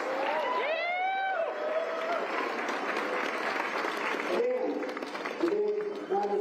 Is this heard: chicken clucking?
no